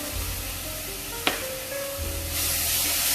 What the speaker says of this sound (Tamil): இதையும் நம்ம நல்லா வதக்கி இந்த தக்காளி வாசனை பச்சை வாசனை போகிற அளவுக்கு இதை வதக்கி எடுத்துக்கலாம்